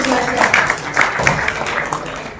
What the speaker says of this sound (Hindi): तालियों के साथ एक बार